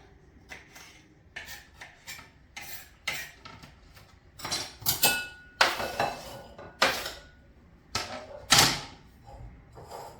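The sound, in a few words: knife slicing red pepper into small pieces for pico de gallo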